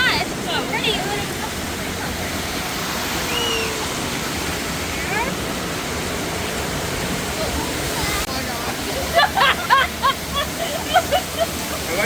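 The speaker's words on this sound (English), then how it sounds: "Oh, waterfall." Rushing water from a waterfall on a Dollywood river rapids ride, a steady loud roar throughout, with people talking over it and brief sharp splashy accents near the end.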